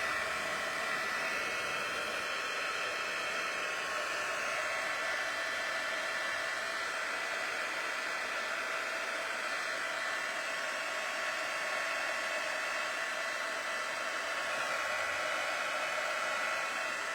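A hair dryer running steadily on its low speed setting, blowing over Blends marker ink on vellum paper, a constant even whir of airflow without any pauses.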